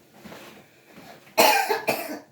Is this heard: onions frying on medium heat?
no